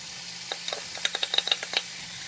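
Shawarma meat frying with onion and tomato in a pan, a soft sizzle punctuated by a quick run of sharp clicking stir strokes, close and fairly faint.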